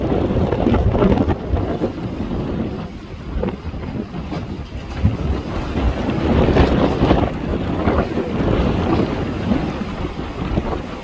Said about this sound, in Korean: 바람이 불었습니다.